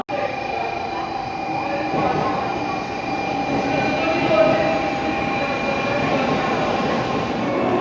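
Steady interior rumble of a Japanese train riding toward Hakata, with continuous wheel and track noise, a faint high whine and an even, enclosed hum throughout.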